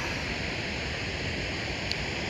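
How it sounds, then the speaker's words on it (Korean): Broadband, steady roar of a waterfall pouring beside a glacier near Juneau, Alaska, a constant rushing wash of water with no breaks and no voices. "저렇게 폭포가 있습니다"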